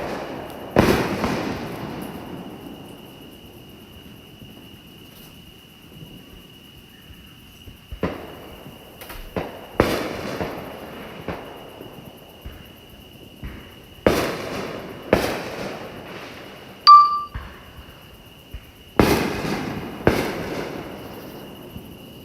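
Fireworks bursting during a display around Peachtree City, Georgia: a series of sharp booms and crackling reports spaced irregularly, some close and loud, others fainter, with insects chirping steadily in the quiet gaps.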